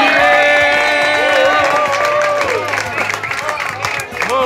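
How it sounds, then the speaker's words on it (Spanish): A party audience at a 40th birthday celebration applauds and cheers loudly and continuously, with voices shouting over the clapping throughout. "Ahora le vamos a dar un aplauso,"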